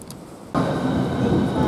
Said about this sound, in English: a Southeastern service coming through, which is the 1519 service from London to St Pancras International to Margate